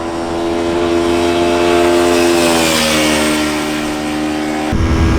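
A KTM RC 125 motorcycle engine revving hard near 10,500 RPM, a loud, sustained high-pitched buzzing whine with a pitch that sweeps slightly before abruptly cutting off near the end.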